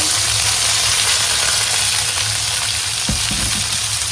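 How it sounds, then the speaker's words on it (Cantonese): Chicken wings fry in a thin layer of oil in a pan over high heat, giving a steady, loud sizzle throughout with a brief louder crackle near the end. "然後開大火，先煎雞翼嘅面先。"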